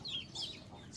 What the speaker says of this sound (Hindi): ये प्योर देसी चूज़े हैं सारे, अपनी मुर्गी के हैं